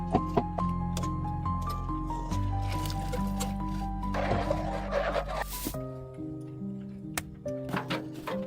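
Tea being poured during cooking in a cold high-mountain home, a soft liquid splash and trickle rising in the middle, set against gentle background music and small kitchen clicks.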